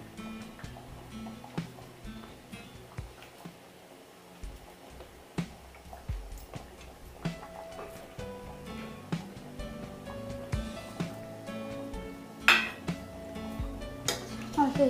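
Pieces of fried fish are dropped into a pot of fish and potato curry and stirred, producing scattered metallic clinks and knocks of utensil against pot at an irregular pace, with quiet background noise and some nearby voice.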